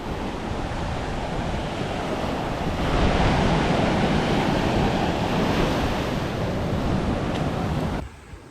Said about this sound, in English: The wind is okay. It's not great, but the surf is very high,